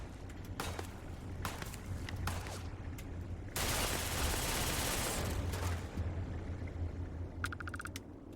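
Enemy gunfire crackles in a modded Bethesda video game, bursts of rapid shots amid a steady low background hum, with a denser volley in the middle and a few sharp clicks near the end.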